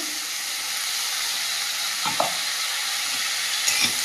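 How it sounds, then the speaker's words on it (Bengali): A paste of ginger and whole cumin fries in hot oil for a koi fish curry, giving a loud, continuous close sizzle with a couple of brief stirring knocks near the end. No speech. "এখানে আদা আর গোটা জিরে বেটে রেখেছিলাম, এই পর্যায়ে দিয়ে দেবো।"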